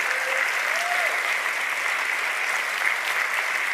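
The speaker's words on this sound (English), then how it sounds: "I want to give you a round of applause for being awesome." Audience in a Vancouver show room applauds volunteers, a steady dense wash of many hands clapping at moderate distance, continuous for the whole stretch with no talk over it.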